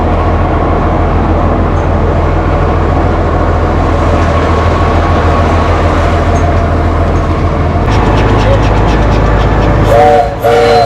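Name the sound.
tourist train ride on Superstition railroad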